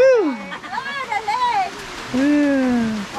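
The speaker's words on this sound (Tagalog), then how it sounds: "Ang lakas ng ulan." Steady, heavy rain roars as a broadband wash during a boat voyage to Mindoro while excited voices call out over it.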